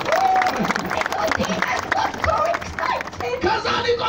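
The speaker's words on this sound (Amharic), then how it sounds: "አጨብጭቡ ለጌታ ክብር" Church audience at a gospel crusade gathering clapping in praise, a dense steady patter of hands throughout, heard with voices and excited chatter mixed in.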